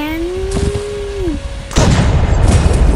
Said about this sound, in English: Give me some rocket launcher.